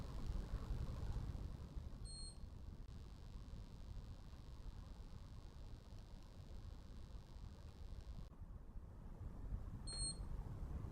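A hand held galvanic spa facial device gives two short, high, faint electronic beeps several seconds apart over a quiet background hum, with no talking.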